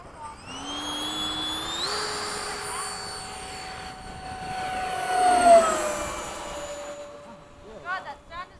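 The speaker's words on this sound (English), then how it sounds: "the motor doesn't sound good with the air rushing through it" An E-flite 80mm F-4 RC jet with a 2100kv setup makes a fast fly-by, its ducted-fan whine rising as it approaches and then sliding sharply down in pitch as it passes and fades away.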